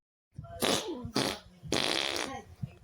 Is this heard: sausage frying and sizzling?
no